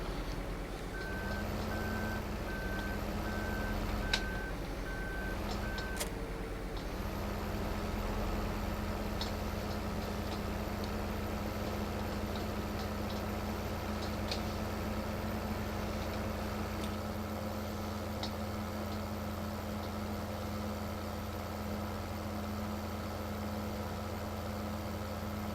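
A 9560 RT tractor in Farming Simulator idles with a steady, heavy engine drone, with a run of electronic reversing beeps over the first few seconds before the engine carries on alone.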